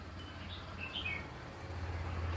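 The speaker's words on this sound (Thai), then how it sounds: "เสียงนกร้อง" Faint high bird chirps and short calls rising over a quiet low hum, a few scattered notes at a distance.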